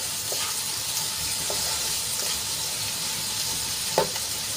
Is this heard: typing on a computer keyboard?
no